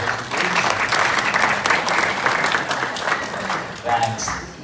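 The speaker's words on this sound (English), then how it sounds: "If you could give them a round of applause for the great presentation, please." Audience at a diaspora property showcase applauding the presenters, a full steady round of clapping that dips briefly near the end and then swells again, with faint voices mixed in.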